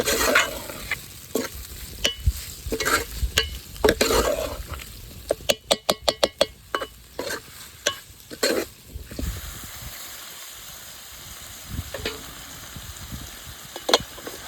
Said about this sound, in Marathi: मस्त परतून घ्यायचा बघू शकताय